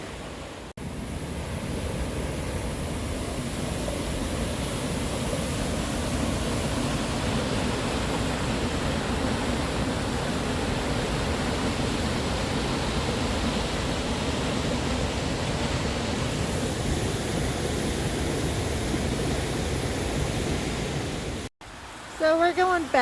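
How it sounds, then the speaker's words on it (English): Two mountain streams meet along the Pinto Lake backpacking trail, giving a steady, loud broadband rush of flowing water that holds nearly constant and is cut off briefly near the end. "Two streams coming in."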